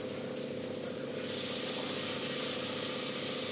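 Onions and tomatoes hitting hot oil in a pan for a mutton dish, a steady loud sizzling hiss that swells slightly after the first second and holds.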